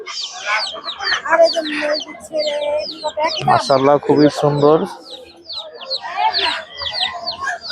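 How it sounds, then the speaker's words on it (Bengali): A native hen with a brood of seven or eight chicks at a weekly poultry market in Fatullah, with the chicks peeping and the hen clucking close by while people talk over them throughout. "দেখতে পাচ্ছেন এখানে প্রায় 7-8টা বাচ্চা সহ একটি দেশি মুরগি আছে।"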